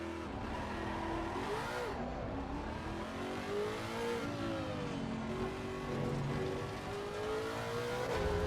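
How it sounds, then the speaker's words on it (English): Engine of a Lexus RC F race car run by 36 Motorsport in the ACC sim racing game, roaring steadily as it climbs and drops through the revs with shifts, loud and continuous, no talking. "we're in a 36 Motorsport car for the Lexus RCF"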